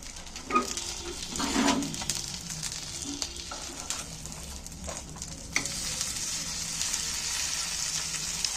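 Potato pieces for aloo dum frying in hot oil in a pressure cooker, a steady close sizzle with a few stirring scrapes and turns in the first seconds, then continuous frying noise.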